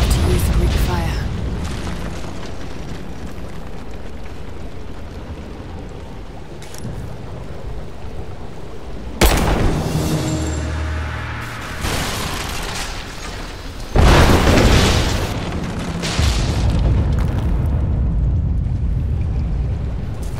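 Greek fire explosions in a Tomb Raider action game: two loud, deep booms about five seconds apart, each followed by a rolling rumble, set against a steady game ambience with a voice talking.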